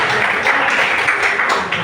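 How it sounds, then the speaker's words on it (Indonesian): Applause after a presentation: a short burst of many hands clapping close by, dense and fairly loud, with a few spoken words faintly mixed in. "kasih aplaus dulu buat penyampaian yang"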